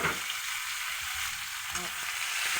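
Onions hit a hot pan with tofu and upo, sending up a loud, continuous sizzle and crackle that runs steadily through the whole short stretch.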